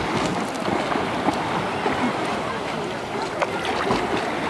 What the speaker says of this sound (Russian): Моторчик.